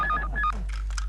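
A telephone gives short electronic tones in quick succession, like dialing beeps, faint over a low steady hum in a TV comedy scene.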